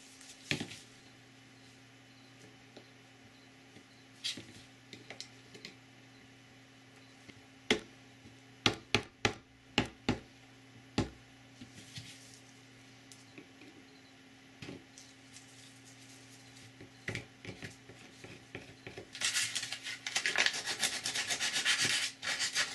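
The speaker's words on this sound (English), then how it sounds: "I'm going to actually take a couple tools and play with making some gouges" Hand tools gouging and roughing up a 3D-printed ABS plastic piece, scattered sharp scrapes and ticks at close range, building into a dense rasping burst toward the end.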